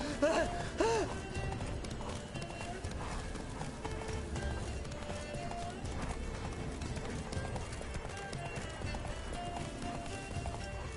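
Roach, a horse in The Witcher 3, gallops with a continuous drumming of hoofbeats and a brief whinny near the start, steady and close under a dense game soundscape.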